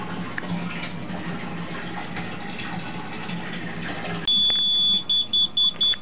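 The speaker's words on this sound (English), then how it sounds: "This is what every fish tank person should have, a water alarm." Running water from an aquarium transfer pump, then a water alarm set off by the leaking pump sounds a loud, high-pitched beep that continues as a series of rapid intermittent pulses.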